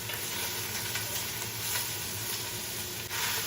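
Onions soften gently in a pan for a Neapolitan Genovese sauce, giving a steady, even sizzle with soft hiss and faint stirring, unbroken and close.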